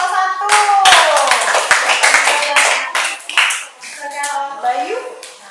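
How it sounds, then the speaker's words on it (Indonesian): Students in a classroom clap their hands for a presenting group, a loud, close, uneven patter of claps mixed with children's voices and chatter. "beri tepuk tangan untuk kelompok 1"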